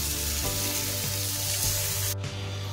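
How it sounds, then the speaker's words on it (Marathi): Prawns fry in a hot pan with a loud, continuous sizzle and crackle, broken by a few soft clinks of stirring before the hiss suddenly thins near the end. "मंडळी आपली कोळंबी आहे ना हे बघा मस्तपैकी फ्राय झालेली आहे."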